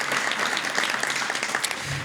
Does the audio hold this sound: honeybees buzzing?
no